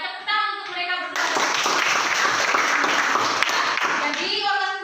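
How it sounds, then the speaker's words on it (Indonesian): A classroom of students claps for two classmates, with a dense, loud burst of applause lasting several seconds, bracketed by a teacher's voice speaking before and after. "tepuk tangan untuk mereka berdua"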